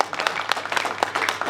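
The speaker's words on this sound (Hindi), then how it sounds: "आप सबकी जोरदार तालियां" Applause from an audience at a kavi sammelan poetry gathering as a poet is called to the microphone, a steady wash of many hands clapping with a few sharper claps standing out.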